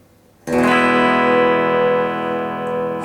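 An electric guitar chord rings out after a brief quiet start, bright and sustained with a warm tone, slowly decaying with light effects.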